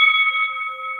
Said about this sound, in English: That is our opening bell.